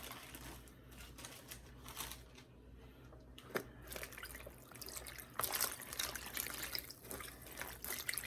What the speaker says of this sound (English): Let me just stir it around a little bit.